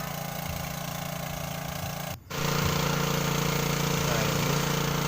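A water pump engine runs steadily while soil is sprayed to free a truck stuck in red earth, a constant mid-pitched idling drone with a brief dip partway through, then a continuing chug.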